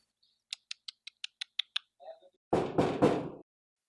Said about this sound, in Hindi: गुड्डू, जाओ देखो दरवाजे पे कौन है।